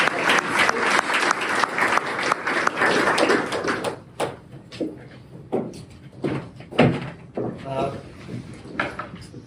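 An audience claps loudly for about four seconds to welcome speaker Kevin Smith at the CNTA 2025 event, then the applause thins to a few scattered claps and knocks as the room settles.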